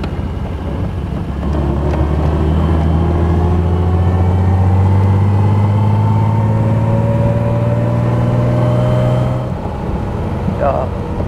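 A restored 1933 Alvis Speed 20 SA Cross & Ellis tourer driving along, its engine droning steadily with a low hum that gradually rises in pitch, fading out near the end.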